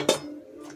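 A metal kadai wok is set down on a gas stove with a single sharp clank that rings briefly and fades, alone with no talk.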